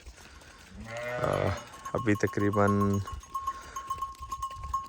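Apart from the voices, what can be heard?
sheep and goats returning from grazing on a farm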